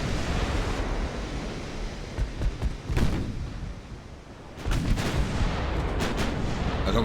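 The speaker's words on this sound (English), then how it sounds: "There we go, now they're firing." Heavy naval guns boom in the game Ultimate Admiral: Dreadnoughts. Two big blasts roll out over a constant wind-and-sea wash, with scattered smaller shots crackling between them.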